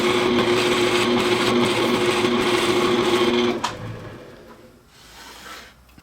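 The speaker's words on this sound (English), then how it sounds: "we're going to drill a through hole right on the edge of our kerf for our" A 1-inch Forstner bit drills a through hole in wood in a workshop. The drill whines loudly and evenly for several seconds, then cuts off abruptly, and a few quieter knocks and rattles follow.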